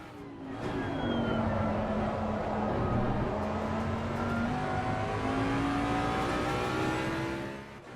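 A Jaguar GT race car in the Assetto Corsa Competizione racing game at the Nurburgring, its engine revving hard through a long rising acceleration with gear changes, loud and close, then easing off at the end, with no talking.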